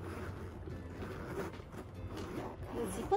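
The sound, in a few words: zipper of denim bag being opened or closed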